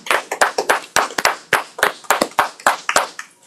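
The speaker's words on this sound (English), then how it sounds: "Let's clap it up." A small group claps loosely and unevenly for Jay's Seafood Kitchen, a new restaurant in Monroe, New York. The crisp, close hand claps fall in overlapping bursts before tapering off, with no talking during them.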